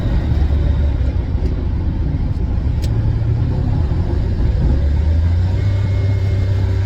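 A Lamborghini Countach V12 drones steadily at around 3,000 RPM in fifth gear while cruising at 70 mph, a loud continuous low rumble from inside the cabin with no talk.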